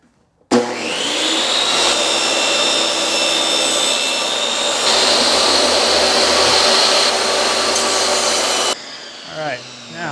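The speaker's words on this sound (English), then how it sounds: "and then we'll hit it with the sander" An electric sander running on a wooden deck board with light grit sandpaper, a loud steady whirring grind that starts abruptly and holds for about eight seconds before stopping.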